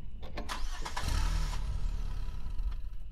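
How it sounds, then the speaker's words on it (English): A garbage truck's engine in a lo-fi horror video game cranks with a few sharp starter clicks, then catches and settles into a deep, steady rumbling idle. "Come on. Get going, garbage truck."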